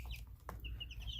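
Young chicks cluck and peep softly in short, quick calls, close but quiet over a low background hum.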